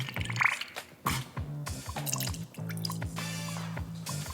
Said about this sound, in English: Grab a mixing cup and mix in 2 tablespoons of dishwasher rinse aid,